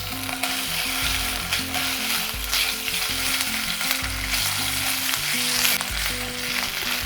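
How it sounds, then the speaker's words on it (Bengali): Ginger paste sizzles steadily in hot oil in a pan, a loud continuous frying hiss with stirring mixed in, and no one speaking. "আদা বাটাটাকে হালকা একটু ভেজে নিয়েছি"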